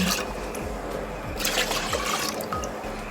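Water from rinsing rice pours steadily with a rushing, splashing hiss, close by, alongside faint low rhythmic thumps.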